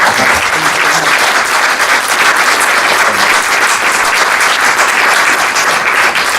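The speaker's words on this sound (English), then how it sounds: "Please give our panellists a warm round of applause." Loud, sustained applause from an audience at the close of a climate change debate, dense even clapping from a full room holding steady throughout, with no speech over it.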